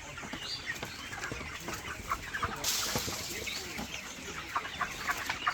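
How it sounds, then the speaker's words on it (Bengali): Broiler chickens spread across a poultry shed cluck and murmur quietly at mid distance, a steady low chatter with scattered sharper clucks and a brief burst of rustling noise partway through. "আমার পুরো সম্পূর্ণ ঘর এইভাবে মুরগি ছড়ায় ছিটে আছে"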